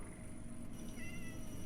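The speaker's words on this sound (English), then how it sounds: "What is this, kitty cat?" In an All the Mods 9 Minecraft modpack game, a cat meows faintly a couple of times over a constant low hum of game ambience, with no talk.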